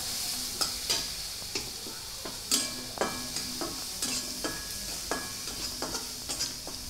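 Garlic and green chilli paste fries in a pan for a tandulsa greens dish, giving a continuous close sizzle punctuated by regular scraping stirs of a spatula against metal.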